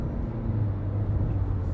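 Comfort-oriented car accelerating as the driver presses the throttle, a steady low engine drone with road noise building evenly from inside the cabin, continuous and moderately loud with no talk.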